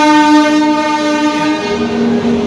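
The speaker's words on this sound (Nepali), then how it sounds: "रेल चाहिँ आइसक्यो।" An arriving train sounds a loud, close, sustained horn over the rumble of the rail cars along a route from India toward Nepal, with the horn's tone dipping slightly near the end.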